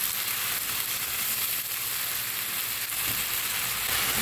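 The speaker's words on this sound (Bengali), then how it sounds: "টমেটোটা দিয়ে ভালো করে মশলার সাথে কষিয়ে নেব।" Spice paste and tomato fry in a pan with a steady, dense sizzle, close and even throughout, with no one talking.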